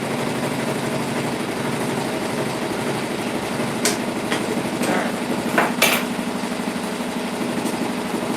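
An embroidery machine sewing a placement stitch for a pumpkin lantern in the hoop, giving a steady fast mechanical hum with a few louder clicks and clatters near the end.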